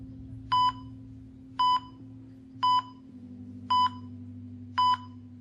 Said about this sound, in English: so we don't have to keep listening to the beeping while I wrap this up